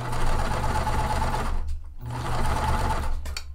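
A sewing machine with a walking foot stitches slippery Minky fabric in a steady close whirring hum, stopping briefly midway before running on again, without voices.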